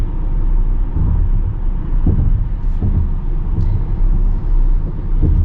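Steady low road rumble inside a 2026 Jeep Cherokee Limited cruising on the highway, with soft periodic thumps as the tyres cross expansion joints, heard continuously and fairly loud throughout.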